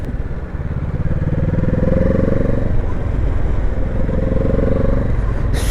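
Kawasaki Z650 RS motorcycle engine revving hard as it accelerates, a loud, steady mid-pitched drone that rises and holds through two surges, close and continuous with no talk.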